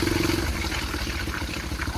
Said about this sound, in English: I'm revving hard up